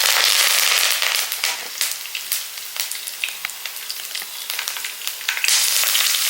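Curry leaves drop into hot oil already holding fenugreek, mustard seeds and slit green chillies, setting off a loud, dense crackle of spitting and popping that runs steadily throughout, with no voices.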